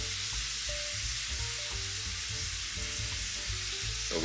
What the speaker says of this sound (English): So we're gonna flip these shrimp here shortly. Just letting them one side cook a little bit.